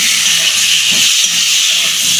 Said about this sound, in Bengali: আমি এবার এই পটল আলুগুলো দিয়ে দিচ্ছি।